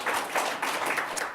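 A studio audience at a talk show gives a brief, dense round of applause, many hands clapping together in a close, lively wash with a slight rhythmic swell.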